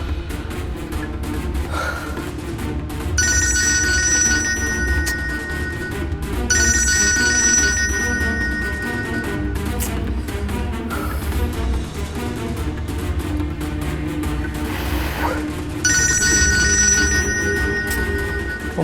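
A phone rings out while a call to a mother goes through: repeated electronic ringtone bursts in a regular pattern, several times over, with faint background noise and an occasional gasp between rings.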